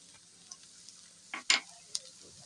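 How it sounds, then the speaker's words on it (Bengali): Quiet sizzling of onion and ginger frying in a pan with a few sharp scrapes of a spatula stirring, close by and brief. "তো পেঁয়াজটা আদা ভাজা করে নিলাম।"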